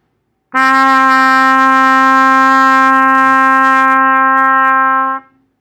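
A trumpet holds a single steady D, played with the first and third valves down and the third valve slide pushed out, sounding loud and sustained for about five seconds before stopping cleanly.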